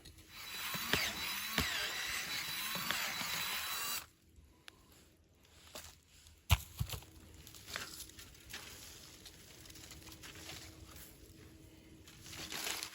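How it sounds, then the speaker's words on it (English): A power drill with an auger bit whirs loudly for several seconds, then stops; quieter scraping and intermittent grinding follow as the auger churns into the ground. "I got my auger on my drill here."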